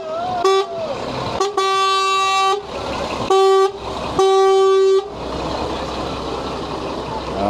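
A Coca-Cola truck sounds its horn loudly during the Santa Comes to Bispham Christmas parade in Blackpool, giving four blaring blasts of uneven length over crowd noise and street bustle.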